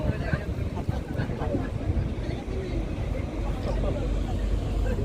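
An Uber Boat river boat runs on the Thames in London, its low engine rumble and wind buffeting the microphone continuously beneath a murmur of passenger voices.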